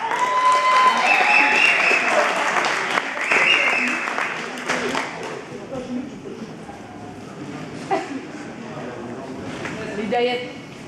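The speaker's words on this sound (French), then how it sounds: "On applaudit les filles, s'il vous plaît" Applause for girls at a regional zone cup competition, a dense clapping crowd that starts strong and fades over several seconds, with an announcer speaking over it and some cheering near the end.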